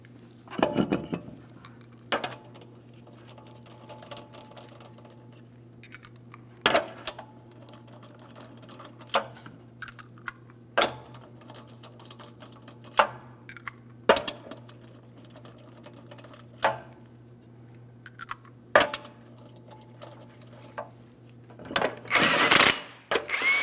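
A torque wrench tightens the lug nuts on a Toyota Matrix wheel in a crisscross pattern, producing scattered sharp metallic clicks and clunks at irregular intervals over a low steady hum, close and unaccompanied by talk.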